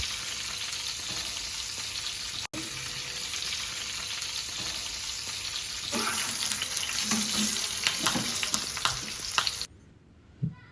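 Snakehead fish fries loudly in a pan, a constant dense sizzle that swells after the fish is turned over and ends abruptly with a final clatter.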